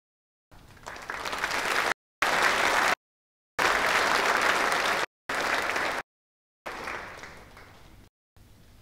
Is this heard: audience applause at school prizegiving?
yes